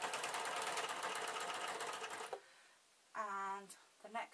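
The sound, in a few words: sewing machine sewing Vax mop covers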